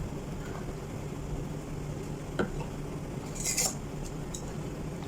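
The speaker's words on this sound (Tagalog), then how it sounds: "So, ayan, halu-haluin lang natin." Breading flour stirred into hot oil in a pan, soft scraping with a few metallic clinks of utensil against the pan and a brief brighter clatter near the middle.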